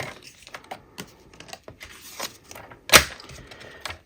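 Paper trimmer slicing designer series paper for a diagonal fun fold card, heard as a run of small, close clicks and ticks, then one sharp, louder snap near the end.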